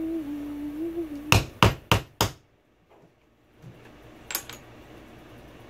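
Four sharp, ringing hammer strikes come in quick succession as a rivet is set on a cosplay armor piece, followed by near silence and a couple of lighter taps a moment later.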